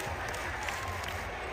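A packed basketball arena crowd at FedEx Forum in Memphis roars and applauds in a steady, dense wash of noise, calling for Grizzlies player Yuki Kawamura, with a few voices rising above the continuous cheering.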